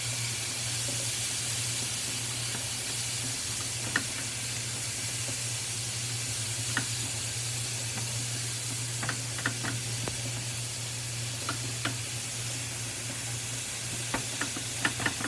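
Ground beef browning in a pan, a steady soft sizzle and hiss with occasional scrapes and taps of a utensil as it is stirred and broken up, close by and with no talking.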